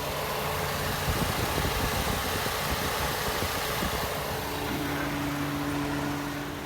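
A 2014 Ford Escape's 2.0 EcoBoost engine idles steadily up close, a constant mid-pitched hum with a faint low drone, no voices over it.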